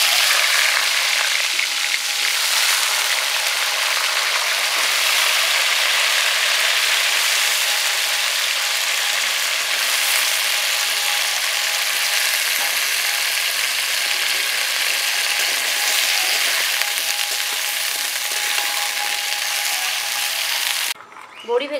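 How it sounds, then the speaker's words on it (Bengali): Pieces of papaya, potato and drumstick fry in hot oil, a loud, steady, close hiss and crackle that runs unbroken for about twenty seconds before a brief clatter at the end. "পেঁপে, আলু আর সজনে ডাঁটা ভেজে নেব।"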